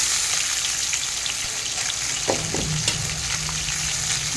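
Okra and fried onion hiss and crackle in hot oil at close range, a continuous dense sizzle with a couple of soft clatters midway.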